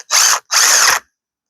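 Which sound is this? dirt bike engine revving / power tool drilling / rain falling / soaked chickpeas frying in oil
power tool drilling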